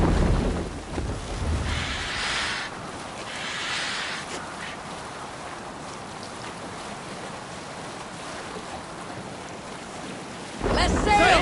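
A Viking longship sails across open water in Assassin's Creed Valhalla, with a steady rush of wind and sea spray, broad hissing waves that swell and ease, and a louder gust at the end.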